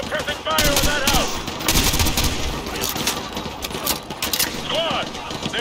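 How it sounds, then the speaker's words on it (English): A street battle in the Call of Duty Modern Warfare 2 Remastered campaign fills with rapid overlapping gunfire as a squad lays down suppressing fire on a house, with shouted voices cutting in over the steady crackle. "Squad, put suppressing fire on that house!"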